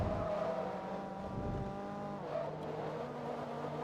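A Mazda Miata races in the video game Forza Motorsport 2, its engine revving steadily with pitch sweeps as it shifts gears. Faint tire squeal rises briefly over the continuous engine drone.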